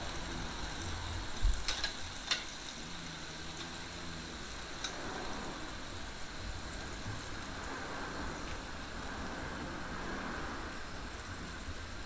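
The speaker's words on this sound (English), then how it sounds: "I'm gonna put my sausages too." Sausages and skirt steak sizzle over an open firepit, a steady close crackling hiss with occasional sharp pops, heard alone without talk.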